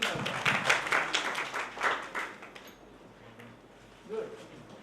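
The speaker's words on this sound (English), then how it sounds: "Please clap for Navdeep also." Audience applause at a cyber security workshop, a burst of clapping that is loudest at the start and fades after a couple of seconds. A brief thump follows near the end.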